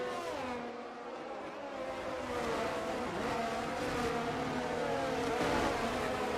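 Engines of McLaren Formula 1 race cars roar continuously in an F1 e-sports video game race, a steady high-pitched whine with shifting pitch as cars battle closely, loud and sustained throughout.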